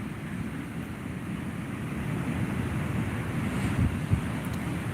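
Ocean shore break on a bright morning, a continuous loud wash of surf with rumbling wave impacts and wind noise on the microphone, no voices.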